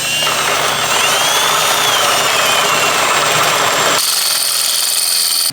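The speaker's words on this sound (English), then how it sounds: "the next step is going to be drilling out the hole on the knuckle" A loud power drill with a 5/8 bit drills a hole in a steel steering knuckle of a Toyota Tacoma, running continuously with a high grinding whine that shifts pitch, then its tone changes abruptly near the end; no talking.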